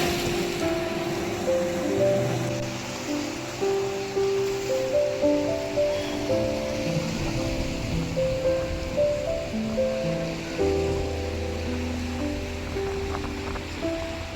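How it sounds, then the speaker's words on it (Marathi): Steady wash of sea waves on a quiet hidden beach shore in Mumbai, a continuous loud surf roar with faint rhythmic surges and no voices. "समोर पसरलेला अथांग समुद्र, किनाऱ्यावर येणाऱ्या लाटा आणि आजूबाजूला जाणवणारी शांतता"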